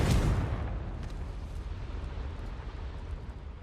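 Confringo blasting spell from Hogwarts Legacy, a loud deep explosive burst at the start that fades into a long rumbling roar with faint debris crackles.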